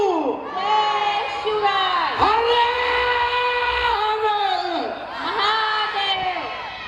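A crowd of teachers and staff at an educational institute festival bharud performance chants a slogan together in loud, drawn-out rising and falling voices, repeated in waves, with a hum of background chatter.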